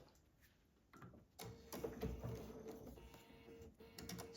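A sewing machine stitches quilt blocks, starting up after a quiet moment and running in short, close, mechanical whirring bursts with brief pauses between.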